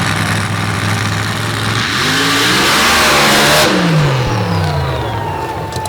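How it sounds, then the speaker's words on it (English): A front-engine, screw-blown Hemi drag car launches hard at a paddle-tire drag event, a loud engine roar building and holding as it pulls away, then the pitch falls as it recedes, with no talk over it. "Let's see what Dale Ellenberger can do with this awesome front engine screw-blown Hemi."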